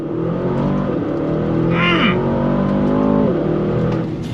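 A 2023 Aston Martin DBX 707 SUV launching hard from a standstill, its engine roaring up through the revs in one continuous, loud, close surge, with rising whine as the speed builds.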